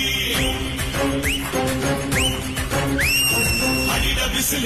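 Shrill whistle blasts inside a Tamil song, several rising whistle sweeps rising over loud music with a steady beat.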